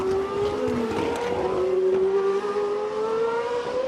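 A GP2 race car at speed during qualifying at the Austrian circuit, a steady high-pitched engine whine that bends slowly as it passes, loud and continuous over the whole stretch.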